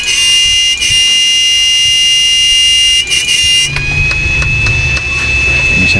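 Repaired 99000W old-model power inverter emitting a loud, steady high-pitched buzzing tone with a brief dip, then a lower hum joining as the tone shifts slightly.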